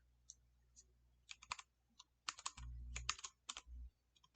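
Keys clacking on a computer keyboard as code is entered, irregular bursts of close, crisp keystrokes with short pauses, over a low steady hum.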